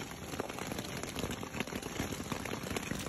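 Hailstorm pelting down on the John Muir Trail in the Sierra, a dense, continuous patter of ice striking ground and gear, loud and close with no talking.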